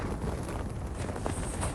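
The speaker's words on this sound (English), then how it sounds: "It is super windy." Steady, heavy wind roaring and buffeting a tent in Iceland, with broadband rumble throughout, no voices, loud and continuous.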